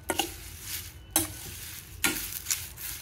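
Curry leaves fry in hot oil in a pan, a steady crackling sizzle broken by a few sharp bursts as the leaves are stirred, close and clear with no voices.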